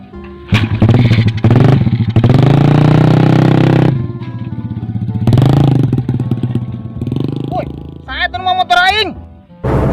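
A motorcycle engine runs loud and close, its rough drone rising and falling in bursts while people shout and talk excitedly over it.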